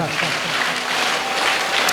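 Students and guests at a school council investiture ceremony keep up a dense, continuous clapping that fills the room; no clear set beat stands out, and the applause stays steady and fairly loud.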